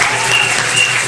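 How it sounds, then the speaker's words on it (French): A television show audience in Senegal applauds briefly for a school director. The clapping is short, dense and steady, with a faint whistle-like tone above it. "applaudissez pour sœur Rita s'il vous plaît"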